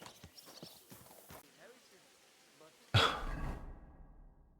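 Horse hooves clip-clop in the video game Kingdom Come: Deliverance 2, arriving suddenly as a loud burst after a stretch of quieter sounds and a throat-clearing cough, then fading away.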